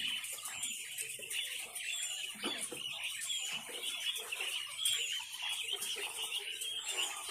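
Quail calling on a poultry farm in Noakhali that keeps laying quail, with repeated high-pitched calls and chirps from many birds running steadily through the whole stretch at moderate loudness.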